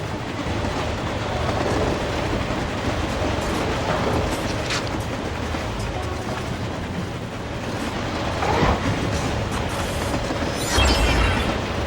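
A moving train in the game 007: Everything or Nothing, with a loud continuous rumble and rattling clatter of rail cars throughout and a few heavier thumps and swells near the end, no voices.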